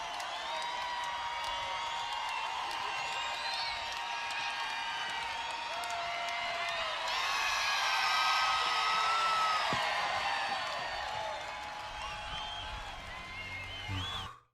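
Large concert crowd at a live performance, cheering and whooping steadily throughout, swelling louder midway before fading at the end; dense, continuous roar of many voices.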